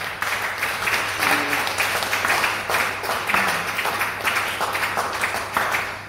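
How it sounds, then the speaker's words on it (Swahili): Church congregation applauding during a worship service, a steady wash of many hands clapping in loose rhythm for several seconds, fairly close and continuous with a faint hum underneath. "Shangilia Bwana kwa makofi."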